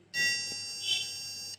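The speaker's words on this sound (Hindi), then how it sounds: "तो आप जैसे सुन सकते हो, ये हमने जब दोनों शॉट किया तो इसके बीप की आवाज आई।" Continuity buzzer on a digital multimeter set to buzzer mode, sounding as the two probe tips are touched together: one steady, high-pitched electronic beep lasting about a second and a half, fairly loud and close, with no talk over it.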